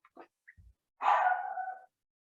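A small female dog gives a single drawn-out bark or yelp, loud and close, after a few faint clicks and taps in an otherwise quiet room.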